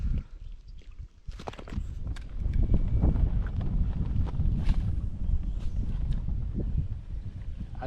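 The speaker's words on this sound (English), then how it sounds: "the wind's starting to blow" Wind gusting across Paintsville Lake around a fishing kayak, a broad steady rumble of buffeting air close on the microphone with a few light knocks and rustles.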